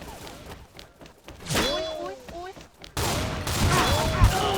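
Rapid shotgun fire in the video game XSHOT, a flurry of loud bursts and impacts with ricochet-like whines, growing denser and louder toward the end amid in-game clatter.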